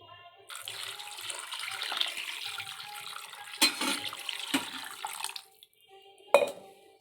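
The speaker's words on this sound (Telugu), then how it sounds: "ఇప్పుడు తగినన్ని నీళ్లు పోసుకుందాం" Water is poured into a pot of mango fish curry, a splashing, gurgling stream that runs for several seconds. A pause follows, then a short knock of the vessel.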